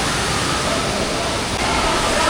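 Steady broadband rush of a waterfall pouring out of a cave in Bali, a continuous loud wash of falling water with no breaks.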